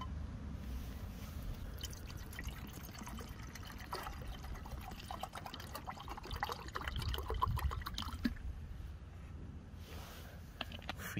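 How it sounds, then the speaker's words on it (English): Water is poured into a vacuum-packed camping meal of minced meat, mushrooms and spaghetti at a stealth camp, a soft, faint trickle and splash with rustling, steady throughout and close by. "Freaking water has been added"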